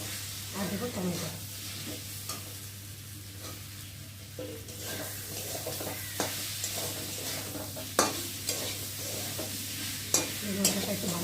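Spice paste of garlic, ginger and cumin with tomato is stirred and fried in a pan, a steady sizzle under repeated scraping and clinking strokes of the spoon, close and fairly quiet, with no talk.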